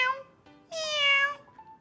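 A cat meows twice, close and clear, a short mew followed by a longer, louder drawn-out meow, with no other sound around it.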